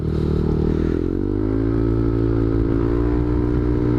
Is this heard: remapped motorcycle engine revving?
yes